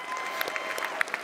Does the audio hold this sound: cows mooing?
no